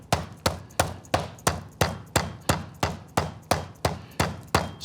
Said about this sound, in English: Then you take a hammer, a mallet, a meat thing, and you go like this.